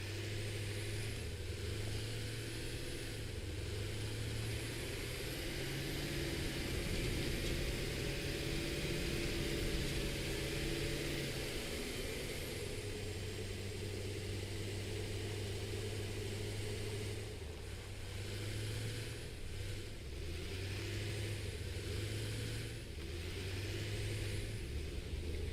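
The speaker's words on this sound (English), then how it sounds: "This tractor is only good for one thing, guys. Exploring." A tractor engine drones steadily while driving in the video game Satisfactory, a continuous low rumble with slight shifts in pitch and no talking over it.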